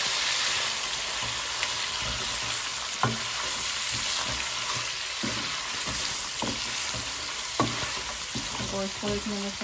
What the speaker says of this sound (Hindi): इसको एक मिनट फ्राई करें